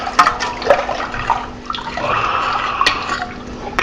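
Sugar solution for homemade apple wine is swirled in a vessel, giving close, uneven sloshes and small splashes with drips, rising and falling in bursts.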